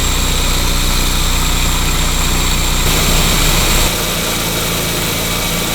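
The engine of a 1986 Volkswagen Scirocco Mark II idles while being tuned after an air leak, a loud steady drone near the microphone that shifts in tone partway through as the idle settles lower.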